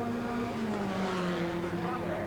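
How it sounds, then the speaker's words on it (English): Formula Ford 1600 race cars, 1988 Star of Tomorrow race at Mondello Park, Ireland: a steady, loud, high-revving engine drone with shifting pitch, several cars close together, under a commentator's voice. "This is the battle for 4th place, and you can see there the red car of Aldo Morelli really climbing all over the back"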